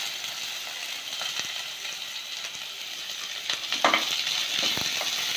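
Onions and peppercorns frying in a hot pan, a steady broadband sizzle with a few brief stirring scrapes and a louder crackling burst toward the end, no voices.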